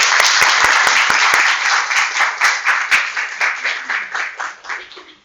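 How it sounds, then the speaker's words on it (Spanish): Applause at the close of a workshop on data repositories and data management plans: a dense burst of clapping that thins into scattered, fading claps toward the end. "un aplauso para ustedes"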